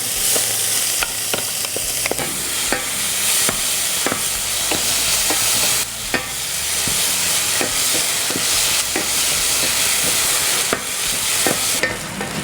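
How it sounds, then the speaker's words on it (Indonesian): Spice paste for ayam woku, a spicy Manado chicken dish, sautéing in plenty of hot oil, giving a steady loud sizzle and hiss with repeated sharp scrapes and clacks of a spatula stirring throughout, no voices. "pertama ini kita mau tumis, jadi kita panasin dulu minyaknya"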